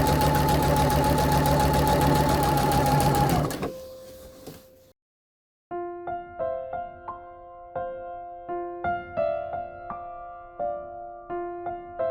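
A sewing machine stitches fabric for a blouse, opening with a loud, fast, steady mechanical whirr of running stitches that stops abruptly, then after a short silence gives way to irregular tonal clicks and short bursts, close and alone.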